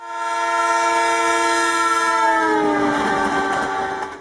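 A passenger train running from Delhi to Darbhanga sounds its horn in one long, loud, steady blast, with the rumble and clatter of the rolling train underneath and no voices.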